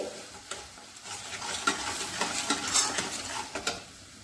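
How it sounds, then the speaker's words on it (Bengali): Spice paste of tomato, salt and turmeric sizzling in a pan as it is stirred, with steady frying hiss and repeated soft scrapes of the spoon, close and without talk. "মশলাটা কষানো হয়ে যাবে আমার,"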